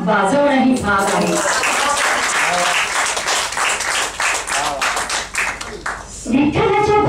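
Audience at a state-level poetry gathering claps in a lively burst, dense and rhythmic in the middle, with a voice speaking at the start and again near the end around the applause.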